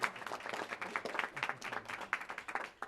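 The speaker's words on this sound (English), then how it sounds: "give her a round of applause" Applause and scattered clapping at a press event for a California state senator, fairly faint and distant, a small crowd clapping unevenly for a few seconds.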